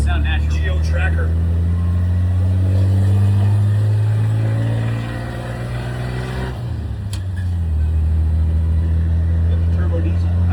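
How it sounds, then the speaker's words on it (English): Engine of a 1946 truck fitted with a turbo diesel, droning loud and close inside the cab with a steady low rumble that dips briefly and then picks back up, while people talk over it. "Hear that turbo?"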